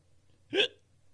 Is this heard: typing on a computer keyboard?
no